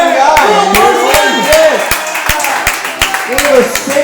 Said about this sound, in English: Give a round of applause for this one guy.